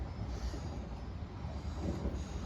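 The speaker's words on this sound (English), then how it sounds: "the final train to take me out of here, up to Stoke on Trent." A train on the Stafford to Manchester line in North Staffordshire runs with a steady low rumble and broad noise that hold evenly throughout, as heard from on board, with no voices.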